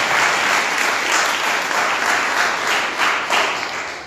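Congregation clapping hands together during a Sunday church service, a dense, steady wash of applause filling the room for about four seconds and fading slightly at the end.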